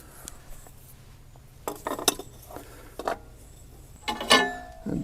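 A metal wrench snugging a replacement oil filter onto an LS tractor, heard as scattered close metallic clinks and rattles of tool on metal against a quiet background, with a louder clatter near the end.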